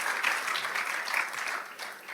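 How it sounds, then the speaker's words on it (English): An audience claps continuously, a dense patter of many hands that is fairly close and steady, dipping slightly toward the end. "give her just a hand of applause"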